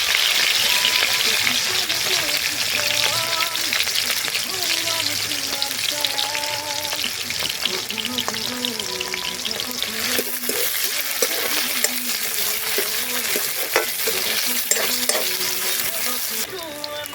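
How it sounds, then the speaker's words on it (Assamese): Onions with green chillies sizzle and hiss steadily in a hot kadai for chicken curry, with a spoon scraping and stirring through them as background music plays throughout. "এতিয়া কেৰাহীত এতিয়া মাংস ভাজিবলৈ পিঁয়াজ দি দিছোঁ"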